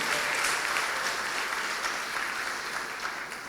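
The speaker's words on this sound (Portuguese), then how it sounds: "Pode aplaudir a Jesus." A church congregation applauds in steady, dense clapping that fills the space, loud and continuous throughout before easing slightly near the end.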